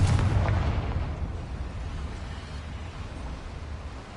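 A Confringo fire spell bursts in Hogwarts Legacy with a heavy, booming blast that rumbles low and fades over a few seconds. No voices are heard.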